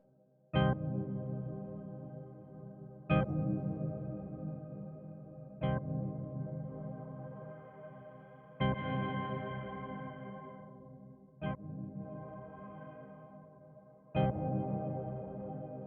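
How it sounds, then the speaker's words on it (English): Low-end filtered reverb in Bitwig, with the highs cut to leave a roomy, boomy tail: six sharp struck hits, roughly every two to three seconds, each trailing off in a long, dark, resonant decay, with no voices. "Then you get this more low-end reverb."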